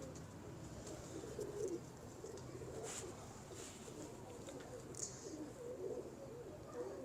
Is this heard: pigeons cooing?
yes